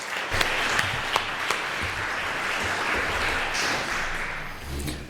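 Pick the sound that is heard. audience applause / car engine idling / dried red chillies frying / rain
audience applause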